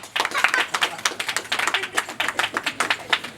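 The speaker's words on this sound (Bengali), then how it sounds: "একটা জোরে হাততালি" Audience clapping at a family wedding function in a Bengali household, a quick run of sharp, irregular hand claps repeating steadily and fairly close, with some voices mixed in.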